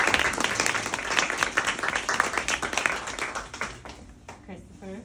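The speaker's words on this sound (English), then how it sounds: "So one more round of applause," Audience applause and clapping at a book release event in San Diego, a dense burst of many hands that thins and fades out over several seconds, with some voices and cheering mixed in.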